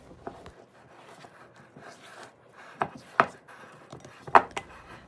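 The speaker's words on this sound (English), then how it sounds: "Using a spatula, mix until all the flour is absorbed and you have a wet, sticky dough ball." A spatula works wet, sticky buttermilk dough with melted butter in a bowl, giving a few soft, scattered scrapes and dull thumps that sharpen into louder strokes near the end.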